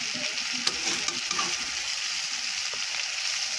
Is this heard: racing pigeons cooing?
no